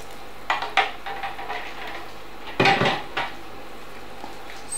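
Stock is being stirred into risotto primavera in a pan, with a few clinks and scrapes of a spoon against metal over a soft, steady sizzle.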